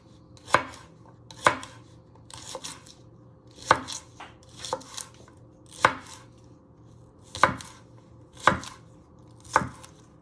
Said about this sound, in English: you want to bring your spring onions together and you want to finely slice them